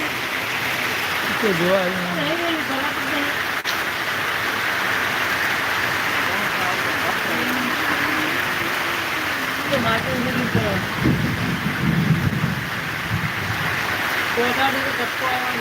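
Steady rain-like hiss runs throughout, with voices or birdlike calls rising over it at moments.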